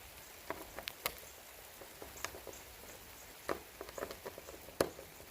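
Rain patters faintly outdoors on a construction site during a deadbolt installation, with scattered soft drops and taps over a quiet background.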